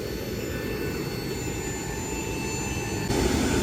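A jet engine roars steadily and loudly with a whining hum, heard from a passenger airliner seat just under the wing, swelling slightly near the end, with no voices.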